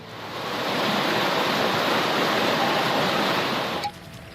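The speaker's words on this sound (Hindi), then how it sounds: "बाढ़ का पानी असम में तबाही मचा रहा है।" Floodwater rushing through flooded streets in Assam, a dense, steady roar that holds loud and unbroken for nearly four seconds before cutting off abruptly into quieter background noise.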